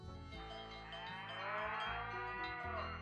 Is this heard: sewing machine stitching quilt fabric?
no